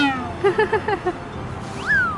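A small adult cat meows several times in quick, short bursts, then gives one longer, rising-and-falling cry, close and fairly clear over a quiet room.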